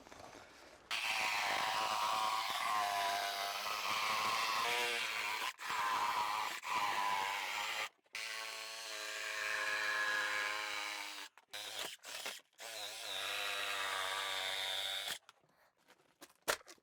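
A reciprocating saw cuts into a bathroom wall during a small remodel, a buzzing, rasping motor drone in long runs broken by short pauses and stop-start bursts, fairly close, with no talking.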